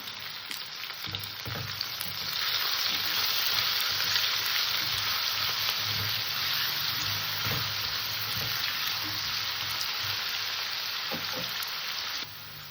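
Vegetables, including carrot and potato, fry steadily in a pan for a vegetarian radish-greens curry, giving a loud, continuous sizzle with occasional stirring scrapes and no talking.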